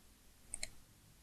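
A single quiet double mouse click on a Preview button in video editing software, two crisp ticks close together against faint room hiss.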